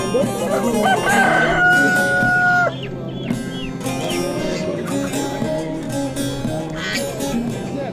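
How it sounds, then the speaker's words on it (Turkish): A young rooster still learning to crow calls nearby at a poultry market in Çubuk, Ankara, a loud drawn-out call with a wavering, unfinished ending, followed by clucking and other farmyard bird noises. "Bu horoz da yeni ötmeyi öğreniyor daha."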